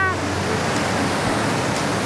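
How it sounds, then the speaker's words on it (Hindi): The Guru waterfall near Indore sends out a steady broadband roar of rushing water, constant and fairly close, with faint voices in the background. "ये रहा, बहुत प्यारा वाटरफॉल हो रहा है।"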